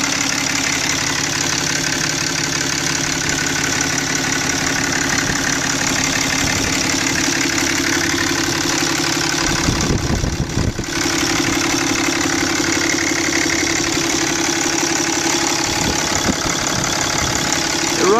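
A Dodge Ram 3500 Laramie pickup with a 6.7-liter turbo diesel idles steadily with a loud, close, even drone and a light diesel clatter, and a short bump of handling noise comes midway.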